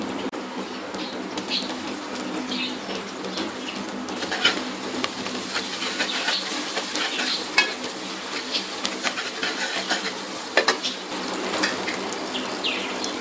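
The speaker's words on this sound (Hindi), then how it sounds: "प्याज हमारे लाइट ब्राउन हो गए हैं, अब इसमें लहसुन अदरक का पेस्ट शामिल करते हैं।" Garlic ginger paste hitting light-brown frying onions in a pan, giving a steady close sizzle and hiss throughout with scattered scraping and stirring clicks.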